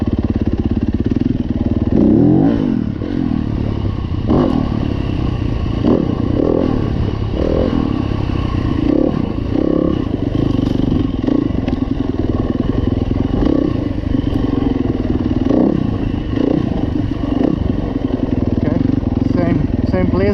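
A Yamaha YZ250F dirt bike runs loud and close throughout while being ridden and revved, with steady engine roar, rising and falling revs and some clatter.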